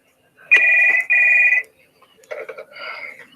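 A telephone rings twice in steady electronic bursts, followed by a softer, lower-level tone that continues on its own before a phone call.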